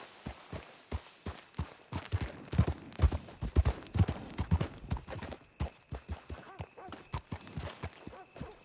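Horse hooves clip-clop in the video game Red Dead Redemption 2, a steady rhythmic trot of sharp hoof strikes at moderate distance, with brief background sound between steps.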